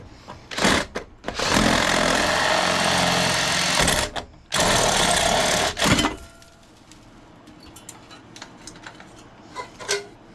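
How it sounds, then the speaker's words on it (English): A loud, high-pitched power drill whines in two long bursts drilling into the lock of a bulk vending machine, then stops, leaving scattered small clicks and taps. "Trying not to drill too deep into it."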